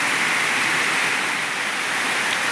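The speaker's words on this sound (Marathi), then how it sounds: "आता बघा बाहेर पाऊस पडतोय" Rain falls steadily outside on a farm, a continuous dense hiss of even loudness with no breaks and no voices.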